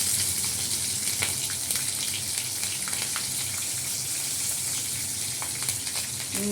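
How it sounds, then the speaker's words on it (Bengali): Bay leaf, garam masala, cumin and green chillies sizzling in hot oil, a continuous crackling hiss with sharp spitting pops, close and steady with no voices. "তেলের মধ্যে তেজপাতা দিয়েছি, এই গরম মশলা আর জিরা ফোড়ন দিয়ে দিলাম, কাঁচা লঙ্কাগুলো দিয়ে দিলাম"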